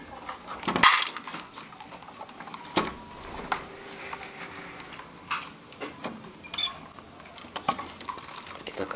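Crested pigeons in a cage during morning feeding give soft coos and a few sharp wing flaps, with scattered small clinks around them, close and with no talking.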